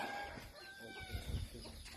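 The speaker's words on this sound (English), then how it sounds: "So the chickens come scratching around," Free-range chickens in a Thai village cluck and murmur nearby in a quiet, low-level scene, with soft scratching movement around them.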